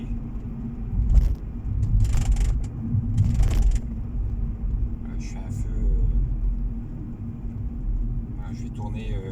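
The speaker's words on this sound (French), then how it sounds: "Il y a encore beaucoup de voitures." Steady car traffic rumbles along a city boulevard in France, a continuous low drone of passing vehicles close by with a few brief higher noises on top, and someone speaks over it.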